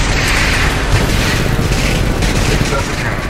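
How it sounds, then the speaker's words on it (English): Heavy cannon fire booms in the Titanfall 2 video game, a dense, continuous barrage of loud blasts and rumbling impacts that fills the whole stretch with no pauses. "That's a cannon."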